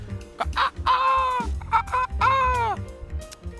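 A person imitates a rooster crowing, two drawn-out strained calls close up, with background noise and other voices around them.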